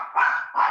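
A dog gives two quick barks in close succession, moderately loud and fairly close, with no talking.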